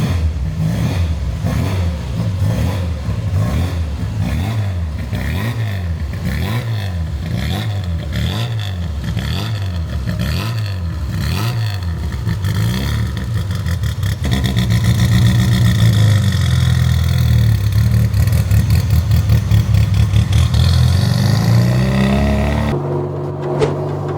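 A supercharged Austin-Healey Sprite engine revs loudly while driving on the road, rising and falling repeatedly through the gears with a strained whine, close and continuous, no speech.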